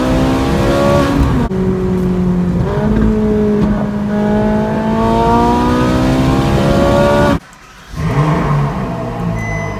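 A Ferrari 458 convertible with the top down revs hard. Its engine climbs and falls in rising pitch sweeps, loud and close. A brief cut breaks the sound before another rev.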